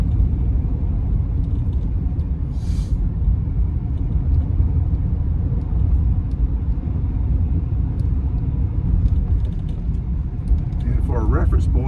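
An old Chevy S10 pickup drives through a residential area of Raleigh, its engine and road noise a steady, dense rumble from start to finish, with brief higher noises near the end.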